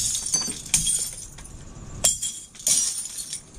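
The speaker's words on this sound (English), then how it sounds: "Glass, broken glass everywhere." Broken glass clinks and rattles inside a dumpster, close and bright, with scattered shards shifting and several sharper clanks among softer scraping.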